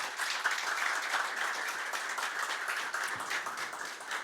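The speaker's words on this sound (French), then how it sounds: "Mesdames et messieurs, je vous demande d'applaudir les sponsors," An audience applauds the sponsors before a match, a steady wash of many hands clapping at moderate distance that holds evenly throughout with no talk over it.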